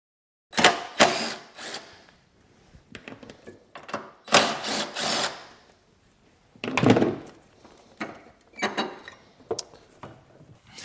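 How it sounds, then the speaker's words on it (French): An impact driver fitted with a 10 mm socket spins off two bolts while a car's fuel vapour canister purge solenoid is replaced: several short, loud rattling bursts with quiet pauses between them, close by and without talk. "on prend une visseuse à percussion et une douille de 10 mm pour retirer les deux boulons"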